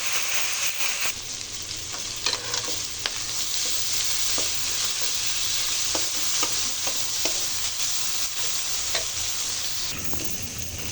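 Dried fish (shutki) frying in a pan for a mashed bharta, giving a steady, close sizzle with scattered stirring clicks and scrapes throughout.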